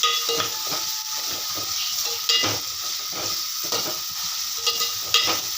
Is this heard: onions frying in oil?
yes